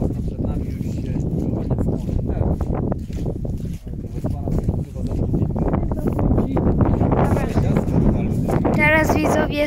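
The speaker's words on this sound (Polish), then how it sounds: "jest mega wiatr" Strong wind buffeting a microphone outdoors, a low rumbling roar that swells and dips throughout, loud and close, with people talking under the noise.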